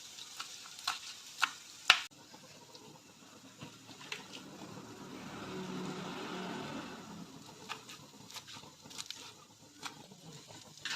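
Onion fries quietly in a pan, a soft sizzle that swells and fades, with sharp clicks and light tapping knocks around it.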